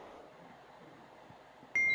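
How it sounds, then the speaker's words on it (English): An electronic beep sounds in a room, a single sharp, steady tone starting abruptly near the end after quiet room hum, loud and close. "There's a beeping going off where I am right now."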